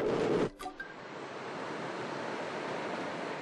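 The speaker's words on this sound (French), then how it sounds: "C'est le mascaret." A tidal bore wave surges up the Petitcodiac River as a steady, broad rushing roar of moving water. A brief louder burst at the start gives way to constant surf-like noise.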